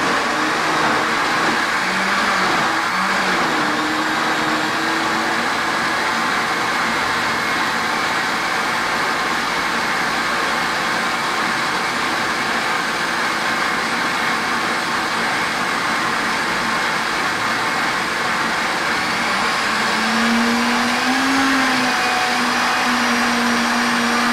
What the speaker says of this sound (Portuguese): E vamos bater tudo junto.